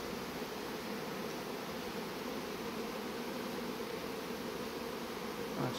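Honeybees buzzing around an open hive during spring swarming season, a dense, steady hum close by with no talking.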